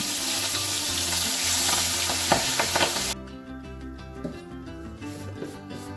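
Two pabda fish frying in oil give a loud, dense sizzle that drops off sharply halfway, leaving softer crackles under steady background music.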